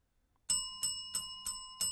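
Five bright bell dings ring out in an even rhythm, loud and close, each tone ringing on briefly before the next strike.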